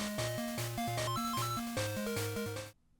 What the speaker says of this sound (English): when you get an extra life,